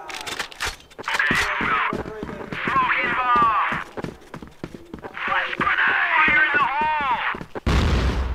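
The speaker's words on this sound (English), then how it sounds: "And Lucas, the teammates of Ailey, just finished him with his sniper." Sniper rifle gunfire in the video game CrossFire during a 2017 esports match: sharp, brief shots scattered through the clip beneath continuous, excited commentary voices.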